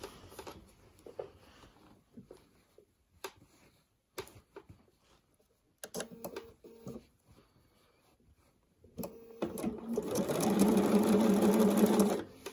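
A sewing machine stitches a quilt border in short bursts, first a few quick starts and stops, then a steady, louder run of stitching near the end.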